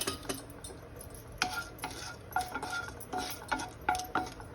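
Urad dal is stirred in hot oil for a tempering, with a spoon scraping and clinking against the pan in short irregular strokes over a faint sizzle.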